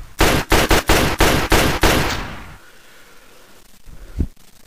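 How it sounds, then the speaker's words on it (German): Pistol fire in the Fallout game, a rapid string of about eight loud, sharp shots followed by fading echo and a faint thud. "Tacitus eröffnete das Feuer mit seiner Pistole, die jetzt auch endlich richtig knallt."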